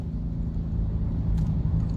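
Cars idle in a nighttime traffic jam on a Thai road, heard as a continuous low engine rumble close by, with no voices.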